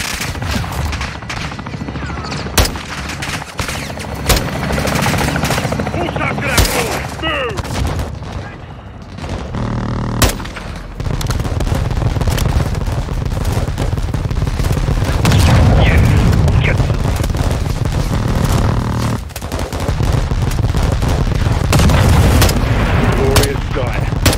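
A helicopter gunship's attack run on a building in Call of Duty Modern Warfare 2: loud, close bursts of heavy automatic fire and booming impacts over a rotor-like rumble, with sharp isolated shots early and a thick barrage later, with radio voices among the gunfire.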